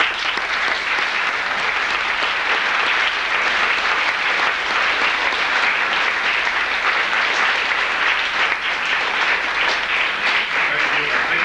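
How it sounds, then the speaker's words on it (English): Steady, dense applause from an audience at a 1997 disability pool festival in Northern Ireland, loud and continuous throughout with no break, a large crowd clapping together. "I'd like you to give them a very good applause now."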